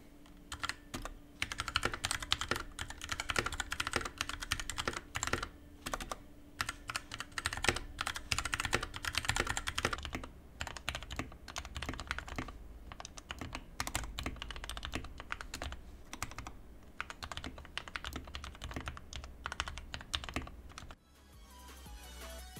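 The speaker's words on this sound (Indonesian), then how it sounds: "Sekarang gue mau ngasih sedikit sound test untuk improvement yang bisa dihasilkan dengan ngemod keyboard ini." Typing on a modded Koodo Gecko mechanical keyboard, a steady run of rapid key clicks and clacks close to the microphone, alone for most of the stretch and ending with a brief pause.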